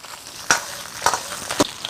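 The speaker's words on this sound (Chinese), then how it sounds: "来一点纯菜油，7成油温下蹄花， 先用大火爆炒" Pig trotters hitting hot rapeseed oil and being stir-fried over high heat, heard as three sharp crackling bursts over a quiet background.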